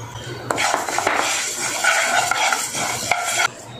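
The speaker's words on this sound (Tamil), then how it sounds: "இந்த பாசி பருப்பும் நல்லா வறுந்துருச்சு" Moong dal dry-roasting in a pan, a steady dry rustle and hiss of lentils as a spoon scrapes and clinks against the metal in quick repeated strokes.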